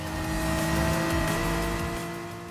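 Race car engine in GT Sport at Interlagos, a loud steady high-revving drone with strong harmonic whine holding near constant pitch, close and continuous, easing slightly at the end.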